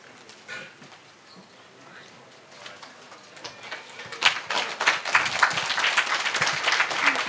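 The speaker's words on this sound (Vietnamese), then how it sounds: "chúng ta có thể dành một tràng vỗ tay thật lớn để cảm ơn những chuyên gia, những người trong ban tổ chức" Audience at an evening startup seminar applauding the experts and organizers, starting as a few scattered claps and swelling over several seconds into steady, fairly loud clapping.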